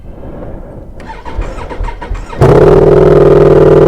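A Ducati V4 Pikes Peak motorcycle with a Stage 1 Powerworks Racing exhaust, started cold, cranks briefly with a rapid starter whir, then catches and bursts into a loud, steady, rumbling idle close by.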